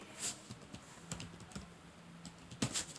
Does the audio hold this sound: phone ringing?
no